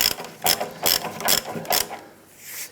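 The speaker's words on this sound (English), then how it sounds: "Now I'm going to use my ratchet and I'm just going to put that in a few threads." A hand ratchet clicks in about five quick, close bursts as it threads bolts into a transmission mount on a 1997-2006 Jeep Wrangler, then falls quiet.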